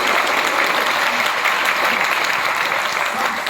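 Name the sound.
audience applause for a woman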